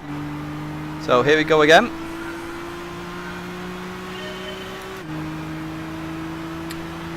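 A race car engine in the Gran Turismo video game drones steadily at a constant pitch, then steps to a new pitch partway through. Someone speaks briefly over it early on.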